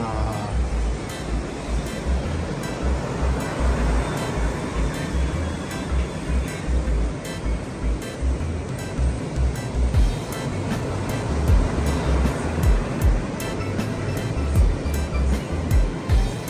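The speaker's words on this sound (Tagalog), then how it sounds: "talagang buhay na buhay ang mga alon dito sa Dingalan" Sea waves and surf at Dingalan, Aurora, rolling in steadily under strong wind, with a continuous roar and repeated low crashes as breakers hit the shore.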